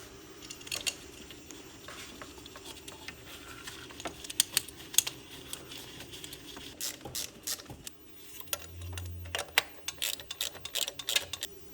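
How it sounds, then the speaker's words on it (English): A hand ratchet clicks in quick, quiet bursts while two 10mm bolts are driven down on the ignition coil of a 6.1 HEMI engine, with scattered light tool clatter between the runs. "Now we're going to reinstall the 2 10mm bolts that hold down the ignition coil."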